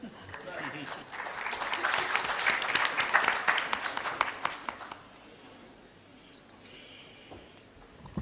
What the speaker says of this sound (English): another round of applause to him for sticking to the timeline